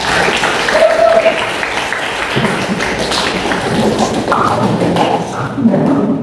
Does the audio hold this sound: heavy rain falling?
no